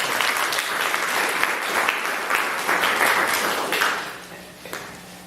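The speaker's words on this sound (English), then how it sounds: "Let's give them a round of applause." An audience at a humanist gathering gives a round of applause, a loud sustained burst of many hands clapping that fades out toward the end.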